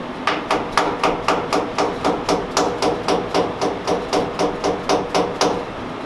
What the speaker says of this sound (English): Got my dead blow hammer.